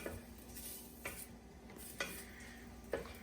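Aromatics sizzle gently in butter and oil in a pan for a mussels dish with garlic and saffron: a soft, steady frying hiss broken by about four clear scrapes of a utensil stirring, with no talking.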